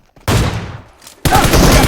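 Rapid bursts of gunfire from the video game PUBG Mobile, a loud volley followed by a quieter rattling tail, then a second dense burst that continues to the end.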